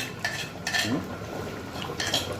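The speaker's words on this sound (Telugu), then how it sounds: "రిమైనింగ్ పోపు అమ్మ జాగ్రత్తగా ఊరుస్తుంది" Leftover tempering is poured into a traditional 18-vegetable tamarind dish and stirred, giving a few short metallic clinks of a spoon against the pot with soft scraping between them.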